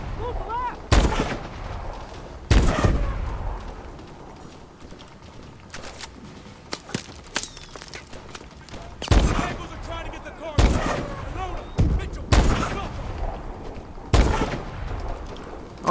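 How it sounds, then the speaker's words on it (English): Heavy gunfire and explosive blasts in the Call of Duty Advanced Warfare video game, repeated loud booming shots spaced a second or two apart with rattling bursts between, close and dominant. "I need cover fire! I'm taking the shot!"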